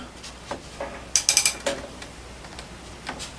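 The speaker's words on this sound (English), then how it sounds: "we're just tightening up the last one here" A hand ratchet tightens 5/8 inch bearing-support bolts on a homebuilt offroad vehicle, giving a quick burst of four or five sharp metallic clicks near the mic over quiet background.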